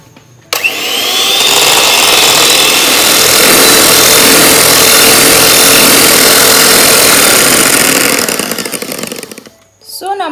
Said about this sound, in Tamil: இப்போ இது 1லேருந்து நம்ம விப் பண்ணி ஸ்டார்ட் பண்ணலாம்.